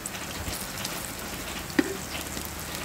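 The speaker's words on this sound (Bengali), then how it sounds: "অল্প তেল দিয়ে ভেজে নিচ্ছি।" Lentil fritters with onion shallow-fry in a little oil, giving a soft, steady sizzle with faint crackle throughout and one brief pop near the end.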